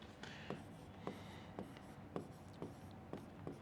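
Pen scratching across paper while writing an accounting entry, quiet close strokes with regular sharp ticks roughly every half second, no voices.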